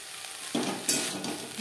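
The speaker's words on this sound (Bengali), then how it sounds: "গ্যাসের ফ্লেমটাকে মিডিয়ামে করে দিয়ে 2-3 মিনিট নাড়াচাড়া করে নেব।" Drumstick flowers being stirred in a frying pan over medium gas flame, a close, crackling sizzle that jumps in bursts as the spatula moves through, with no talking.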